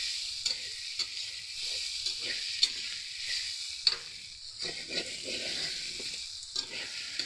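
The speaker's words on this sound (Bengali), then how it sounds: "দেখুন ভালো করে কিন্তু মশলাটার সাথে কষিয়ে নিচ্ছি" Potatoes sauté with spices in a hot pan, giving a steady close sizzle with occasional scraping taps of a spatula stirring them, soft and continuous with no voices.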